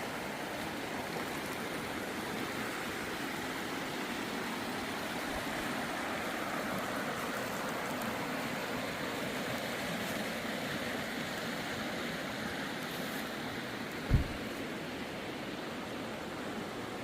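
Naneum Creek flowing past a campsite on an eastern Washington off-road trip: a steady, even rush of water holding at one level throughout, with one brief soft knock near the end.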